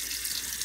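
A sink tap running steadily into a container, filling it with water for a self-watering bucket system, a close, even rushing hiss with no talking.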